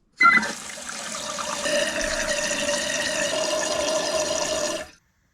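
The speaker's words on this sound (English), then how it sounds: "Now we're gonna turn on the water, see if we have any leaks." A toilet tank refills after a new fill valve is fitted, a steady hissing rush of water flowing in for about four and a half seconds, close and continuous before stopping abruptly.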